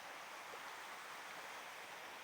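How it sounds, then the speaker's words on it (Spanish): A waterfall near old copper mines in Japan gives a steady, faint, broadband rushing of water, even and continuous with no breaks or voices. "la cascada"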